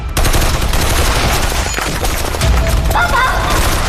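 Loud, dense gunfire erupts at close range in an action science-fiction film scene after an order to open fire, a sustained barrage of shots with booming impacts.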